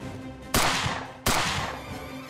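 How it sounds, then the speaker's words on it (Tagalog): Two loud, sharp gunshot cracks in a dramatized shootout by armed men. Each crack is followed by a noisy decaying tail over a steady background bed, and no voices are heard. "Nagpaulan kaagad ang mga armadong lalaki ng putok ng baril."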